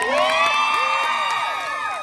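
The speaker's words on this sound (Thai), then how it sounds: "ขอเสียงกรี๊ดดังๆสักครั้งได้มั้ยครับ" An audience at a Thai likay folk-theatre performance screams and cheers in a loud, continuous wall of high-pitched shrieks and whoops. Many overlapping voices rise and fall across the whole stretch, with no clear speech.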